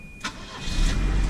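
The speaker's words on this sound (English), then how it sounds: "So let's start this car up" A 1986 Volvo 740 turbo car engine cranks briefly and catches almost instantly, then settles into a low, steady rumble close by, with no talking.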